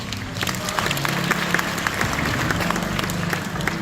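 A seated audience applauds steadily at the opening of the Dongguk University Buddhist 108 choir's founding concert, with dense, even clapping filling the hall.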